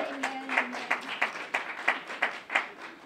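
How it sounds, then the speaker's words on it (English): Audience at an NAACP and library event in Brockton clapping in a short, fairly rhythmic round of applause, steady claps at moderate volume from a nearby crowd. "Give the library and NAACP a hand clap."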